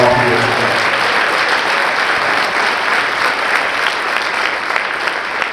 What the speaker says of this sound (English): Let's all give Mr. Tom Owens a round of applause.